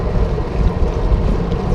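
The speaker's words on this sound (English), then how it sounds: "It's a little windy." Wind buffeting the microphone while cycling beside railroad property, a loud steady low roar and rumble with no speech.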